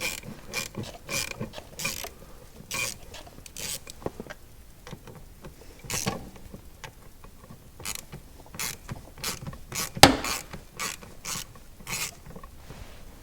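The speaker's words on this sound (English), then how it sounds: "we'll remove the other screw" Screw being worked out of a Jeep Cherokee blower motor resistor with a ratchet, a series of close, crisp clicking and creaking bursts in uneven rhythm, with one sharper knock near the end and no talk.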